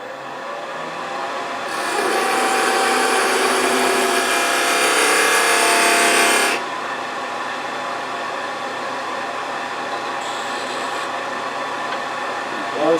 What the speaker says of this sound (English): I'm going to put a tenon on each end using my square beating and parting tool